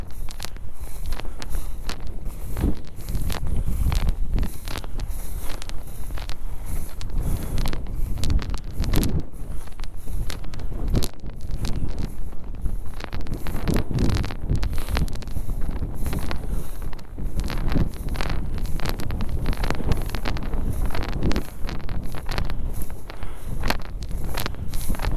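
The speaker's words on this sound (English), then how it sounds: "Up enjoying the wind." Strong wind buffets the microphone on a hilltop during a grouse hunt, a loud continuous roar and rumble with gusts, plus occasional rustling and footsteps.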